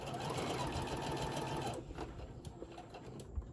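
A sewing machine runs steadily for almost two seconds while stitching fabric off the end of a seam on a handmade bear, then stops, leaving quieter handling sounds.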